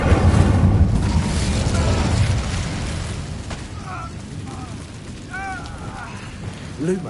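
A Confringo fire spell goes off in Hogwarts Legacy on PS5, a loud rumbling blast that fades into a lingering crackle and rain-like ambience, with brief whooshing magical tones afterward.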